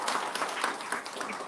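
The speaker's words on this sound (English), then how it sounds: "please give a round of applause for her" A brief burst of steady, fairly dense audience applause fills a seminar room at a human rights day event in Amsterdam. It lasts under two seconds with no speech over it.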